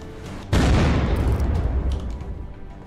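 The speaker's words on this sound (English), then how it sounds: "Shoot the RPG, go." An RPG rocket in Unturned, fired during a tank attack, bursts with a sudden heavy boom about half a second in, followed by a rough, crackling rumble that slowly fades.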